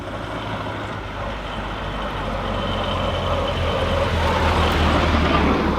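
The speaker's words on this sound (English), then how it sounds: "Driving the 5CV" A 1926 Citroen 5CV car drives along with a steady low engine drone and road rumble, heard from close inside. It grows slightly louder as it goes.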